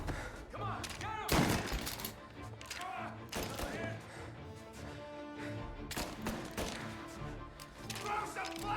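Gunshots in the video game Mafia Definitive Edition, irregular loud sharp cracks and bursts scattered through a tense shootout, with character shouting and game sound between the shots.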